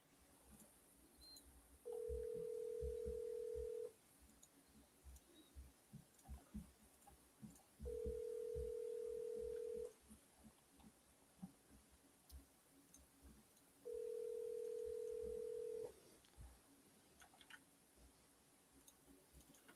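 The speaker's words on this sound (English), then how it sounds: "nobody wants to answer the phone today" An outgoing phone call to a realtor goes unanswered, three evenly spaced ringback tones of about two seconds each through a handset, with faint clicks and handling noise in between.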